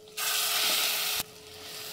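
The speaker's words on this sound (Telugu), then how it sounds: "దంచుకున్న కొబ్బరి చట్నీ ఇందులో వేసుకుందాం" Pounded coconut chutney is dropped into a hot pan of tempering and sets off a sudden loud hissing sizzle. The sizzle holds for about a second, then drops back to a softer steady crackle.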